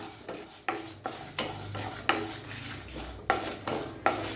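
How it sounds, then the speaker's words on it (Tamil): Black pepper, dried red chillies, tamarind and lentils stir-fried in a pan for curry leaf rice, with a steady clatter of a metal spoon scraping the pan in repeated strokes over a soft background sizzle. "இப்போ இது எல்லாத்தையும் நல்லா ஃப்ரை பண்ணிக்கலாம்"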